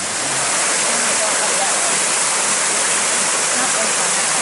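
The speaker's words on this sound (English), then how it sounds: "The epic 2-foot waterfall." A small two-foot waterfall at the Walls of Jericho splashes steadily and loudly from start to finish, a close, continuous rush of falling water.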